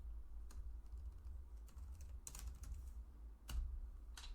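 Keys tapped on a computer keyboard in short, uneven bursts with a few sharper clacks, close and fairly quiet over a low steady hum, no voices.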